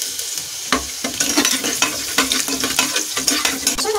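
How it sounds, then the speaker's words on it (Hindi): Garlic sizzles in hot oil with crackled cumin seeds while a spoon stirs it, giving steady close frying hiss broken by repeated scraping clicks against the pan. "अब मैं इसमें लहसुन डालूंगी।"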